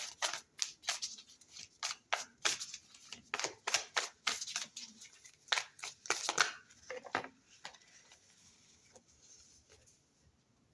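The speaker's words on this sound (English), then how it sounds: "Shuffle for Aquarius." Crisp bursts of tarot cards being shuffled, repeated in quick riffling strokes, close and clear, tapering to a few scattered flicks.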